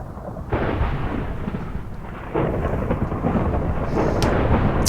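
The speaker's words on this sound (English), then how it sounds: "That's because it's raining." Steady rain pours with deep rumbling thunder rolling through in Minecraft, swelling louder midway, with no voices.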